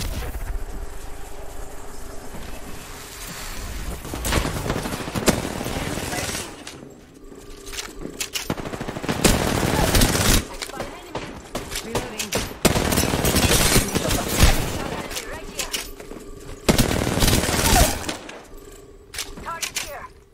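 Apex Legends gunfire comes in repeated loud bursts of rapid automatic shots, separated by short pauses, with game sound effects in between.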